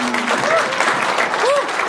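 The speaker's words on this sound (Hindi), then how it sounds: "आप एक बार जोरदार ताली यार।" An audience applauding at a comedy show, a steady burst of clapping close by and loud throughout, with faint voices underneath.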